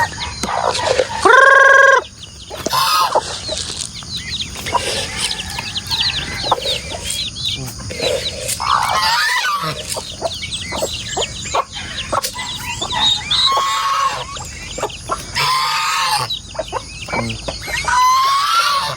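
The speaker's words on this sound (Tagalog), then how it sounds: "Yung mga sisiyo ng manok, ayan po. Lakas na rin kumain." A crowd of chicken chicks clucks and peeps loudly while feeding on a small farm, with shrill cheeps and pecking noises overlapping continuously.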